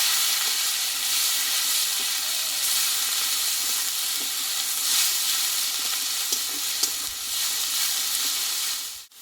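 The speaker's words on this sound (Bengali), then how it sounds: "আর দেবো পেঁয়াজ বাটা মশলাটা একসঙ্গে ভালোভাবে কষিয়ে নেবো" Onion paste, ground dry chilli and cumin fry for a Bengali mutton dish, a loud, dense steady sizzle and hiss with occasional stirring clicks, close up and without talk.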